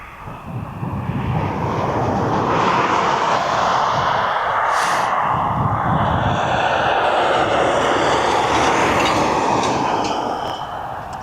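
A loud, broad roar of an aircraft on final approach to East Midlands Airport, building in the first second or two and then holding steady and close for the rest of the stretch, with no voices over it.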